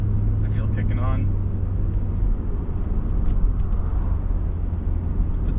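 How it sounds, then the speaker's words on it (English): A steady low rumble of road traffic passes outside, heard from inside a 2004 Mercedes-Benz CLK500 convertible with the top up, with a brief voice speaking at the start. "you only hear traffic passing by"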